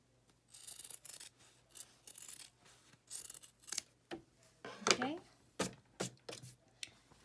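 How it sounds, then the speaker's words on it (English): Scissors trim excess fabric from a sewn scrub hat with a series of close, crisp snips and short sliding cuts in an uneven rhythm, with faint handling sounds between them. "just cut it to make it clean. I mean excess fabric."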